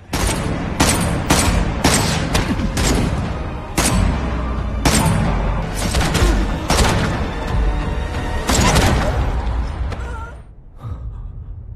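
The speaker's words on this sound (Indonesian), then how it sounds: "dia pun akhirnya turun gunung dan langsung menghujani Lee Do dengan peluru" Heavy gunfire rains down in an action drama, a rapid series of loud sharp gunshot bursts spread over several seconds, then an abrupt cutoff to quieter ambience, with a gasp heard in between.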